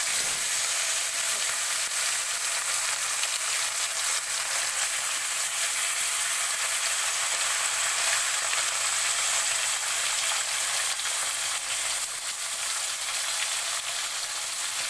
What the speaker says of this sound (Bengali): তেল সুন্দর গরম হয়ে গেছে, আমি একে একে মাছগুলো দিয়ে দিব।